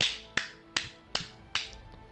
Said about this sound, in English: They make a very loud clapping noise in the mic.